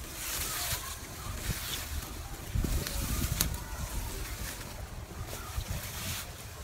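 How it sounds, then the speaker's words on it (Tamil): Strong wind sweeps across a hilltop viewpoint at Kalmunai Kal rock in Akurana, making a loud, continuous roar with a heavier buffeting gust midway and no clear speech. "சட்டப்படி காத்தும் வேறு லெவல் அடித்து கொண்டிருக்குது."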